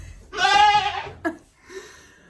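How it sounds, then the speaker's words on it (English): A goat named Fancy screams in a goat barn, one loud, drawn-out bleat up close followed by a brief sharp sound and a fainter, shorter cry. "I'm in the goat barn and Fancy's screaming"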